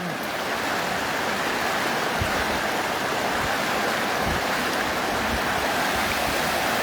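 Water flows and washes steadily near the sea, a loud, continuous rushing with low surges, heard close and alone without talk.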